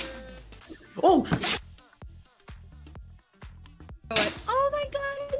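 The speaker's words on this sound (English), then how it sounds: "Oh my god, it's a doggy! It's sneezing." A dog sneezes twice in quick succession, close and sharp, amid excited human voices and exclamations.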